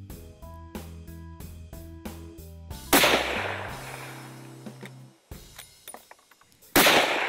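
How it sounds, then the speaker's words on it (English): A rifle, a Ruger 10/22, fires test groups while its scope is sighted in, with two sharp loud cracks spaced several seconds apart among quieter clicks and handling noises. "Then, I'll fire a few test groups."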